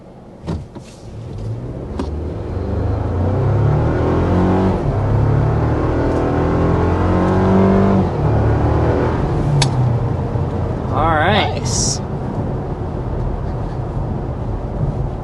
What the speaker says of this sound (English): So let's go ahead and dive in with the hard acceleration.